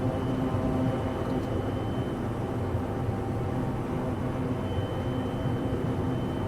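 A firefighting airplane flies in an aerial firefighting game, its engine giving a steady, dense drone that holds an even loudness throughout with no pauses.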